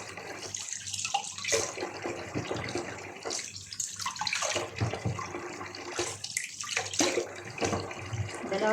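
An egg is washed under a running tap while red eggs are being made: a continuous close stream of water with splashes and handling noises that shift in strength.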